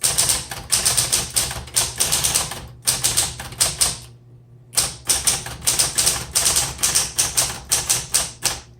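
A 1960s Smith Corona Automatic 10 typewriter being typed on: rapid, crisp keystrokes in bursts with short pauses, close and clear, with one longer break partway through and no voices.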